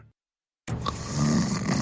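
A person snoring, a thick rumbling breath that starts abruptly after a brief silence and carries on steadily and close.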